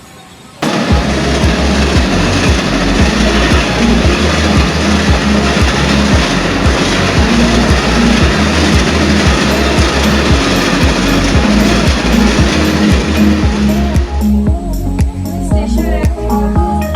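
Passenger train running from Cuttack toward Sambalpur, a loud continuous rumble of wheels on track with rhythmic clatter throughout, steady and close, with the noise thinning near the end.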